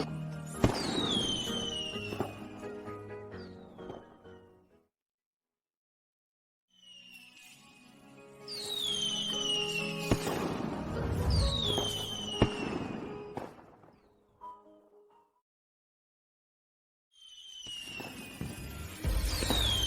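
Fireworks exploding in three separate volleys, each with whistling launches, sharp bangs and crackle, separated by short silences, close and loud with no talk.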